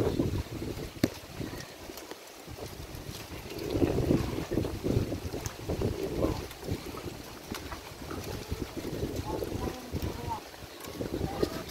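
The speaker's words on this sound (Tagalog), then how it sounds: "Bagyong Kabayan ito ngayon guys" Typhoon winds sweeping across a farm, gusty roaring buffets hitting the microphone in uneven waves, with faint voices partly audible beneath the rush.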